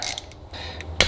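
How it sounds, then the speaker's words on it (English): A 1/4-inch ratchet with a 4-inch extension and 8mm socket loosens transmission pan bolts on a Dodge Grand Caravan 62TE, giving a few close, sharp creaks and clicks in quick succession. "I just grabbed a 1/4 inch ratchet with a 4-inch extension and an 8mm socket."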